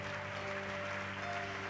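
A church congregation applauds steadily throughout, the clapping faint and continuous beneath a held sustained musical tone.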